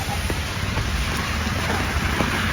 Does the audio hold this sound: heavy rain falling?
yes